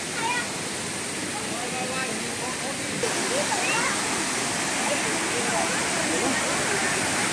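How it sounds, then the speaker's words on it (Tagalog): A waterfall in Hong Kong Park rushes in a steady, loud, broadband roar from nearby, continuous throughout, while a person talks faintly over the water noise. "Ito yung waterfalls na hinahanap ko noon"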